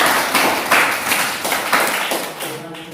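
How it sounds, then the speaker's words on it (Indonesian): A school class claps for classmates in a steady, patterned rhythm. Sharp group claps land about every half second, close and fairly loud, with little talk. "Tepuk tangan untuk teman-teman."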